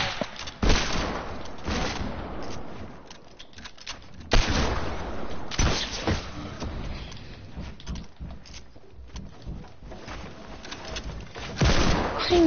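Video game gunfire rattles in repeated loud bursts and volleys throughout, dense and close, with little talk over it.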